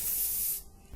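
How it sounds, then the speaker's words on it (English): A medical spray hisses in a steady burst of about half a second from a field medikit, close and alone, then cuts off into quiet. "he applied a vitazine spray to stabilize the creature's nervous system"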